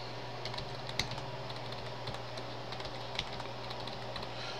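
A computer keyboard being typed on, sparse, faint key clicks set against a steady low electrical hum, no talking.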